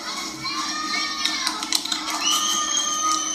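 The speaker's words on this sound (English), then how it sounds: "That was everyone screaming at us" A crowd, many of them children's voices, screams and shouts excitedly, loud and close, with overlapping shrill cries rising and falling.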